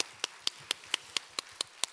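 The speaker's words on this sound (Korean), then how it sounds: "우리 부활의 주님을 박수로 영광 돌려드리겠습니다" A Korean church congregation claps in praise at an Easter Sunday service: about nine crisp, evenly spaced claps, roughly four per second, with no voices over them.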